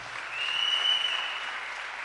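A church congregation applauds at a French-English sermon, a steady, moderately loud wash of clapping that holds even for two seconds with no voices over it.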